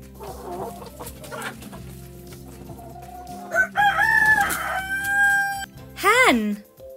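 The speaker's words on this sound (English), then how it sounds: "Hen." A hen clucks several times with rising and falling calls, then a loud rooster-like crow closes the sequence, heard over a faint steady background with no talk.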